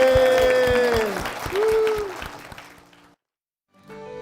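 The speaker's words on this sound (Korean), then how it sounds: "영광의 박수를 드리겠습니다" Church congregation applause, a dense round of clapping mixed with a sustained musical tone, fading out to silence before music resumes faintly.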